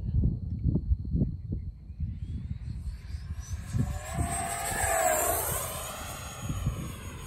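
An FMS Avanti 70mm RC jet plane flies past overhead at half throttle. Its ducted-fan whine rises and sweeps downward as it passes, following some low gusty thumps near the microphone.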